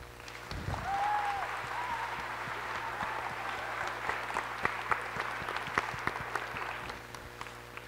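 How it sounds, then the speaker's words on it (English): Audience applause for the choir board at a middle school choir winter concert, a steady broad wash of clapping across the room with scattered sharper claps standing out, continuing at an even level throughout. "stand up so we can give them a round of applause"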